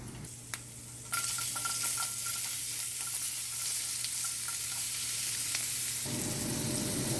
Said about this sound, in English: so we got the garlic and the onions browning nicely